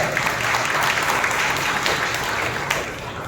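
A church congregation applauds loudly at a Sunday service in Nellore, with sustained, dense clapping throughout and a steady crowd wash behind it.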